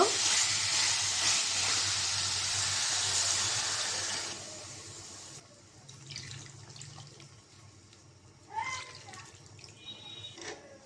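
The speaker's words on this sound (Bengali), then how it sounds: "আলু মশলা কষানো হয়েছে এখন পানি দিয়ে দিব" Water poured into a pan of sautéed potatoes and spices, a loud rushing splash and hiss for about five seconds, then quieter bubbling, a clatter of utensils and a few soft knocks.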